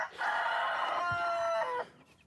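A single close rooster crow rings out, strong and sustained for about a second and a half, then stops abruptly.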